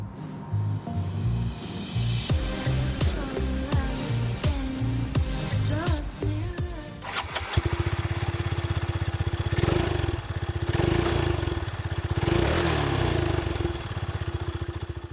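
Peugeot Satelis 400 maxi-scooter engine accelerating from low speed, a steady close engine drone rising in pitch over the second half after busier mixed sound at the start.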